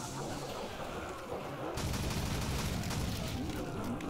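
Rapid gunfire rattles continuously in a World at War custom zombies game, a dense steady burst that gets louder and heavier partway through and keeps going without pause.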